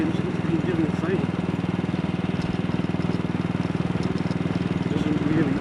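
A 64-year-old AJS Model 8 motorcycle engine runs steadily close by, with a fast, even single-cylinder thump pulsing throughout and no voices over it.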